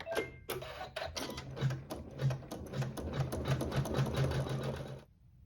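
Embroidery sewing machine stitching a quilt block: rapid, steady mechanical needle clatter with a rhythmic whirring hum, close and continuous for about five seconds before stopping abruptly.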